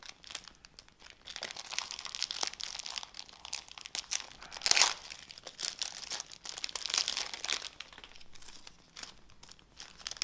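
Plastic packaging crinkles and tears as a Dragon Ball Z wallet is unwrapped up close. The rustling comes in irregular bursts, with one sharp rip near the middle.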